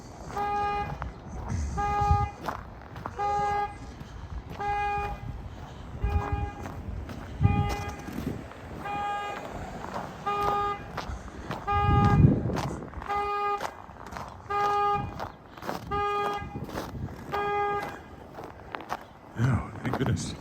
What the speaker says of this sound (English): Get over here so I don't have to walk right by the honking car.